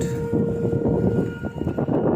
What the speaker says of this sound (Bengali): মালগাড়ি যাচ্ছে তাই রেলগেট এখন বন্ধ করা রয়েছে